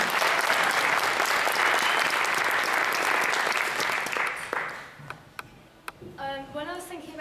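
Audience applause after a poem reading at a young poet laureate audition in a Birmingham library, a dense sustained clapping that fades out near the end, followed by a voice speaking.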